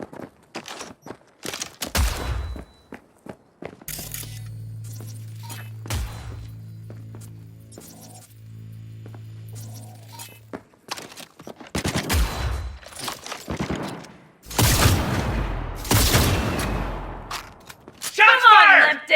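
Gunfire in the video game Cyberpunk 2077: scattered sharp shots and short volleys that build into heavier, louder bursts toward the end, with a low hum in the middle stretch and voices talking at times.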